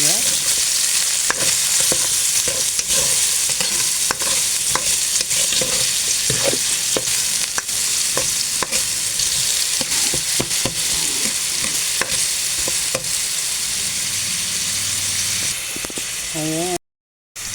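Onions frying in a pan for goto crackle in a loud, steady sizzle, punctuated by frequent rhythmic spatula clicks and scrapes, before cutting off abruptly near the end.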